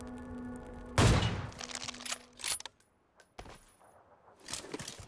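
A single sharp gunshot lands a headshot in PUBG Mobile, a loud close crack followed by a few fainter clicks and small impacts.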